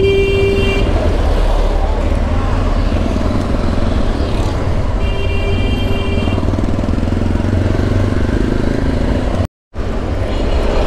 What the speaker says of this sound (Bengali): আমার পিছনে এবার হর্ন দিচ্ছে